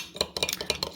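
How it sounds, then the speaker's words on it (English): A spoon stirs ground acacia confusa into cold cream, making a quick run of close metallic clinks and scrapes against the bowl in an uneven rhythm, with no one speaking. "stir it really well"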